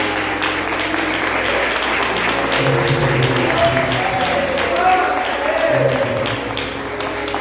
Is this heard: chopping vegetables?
no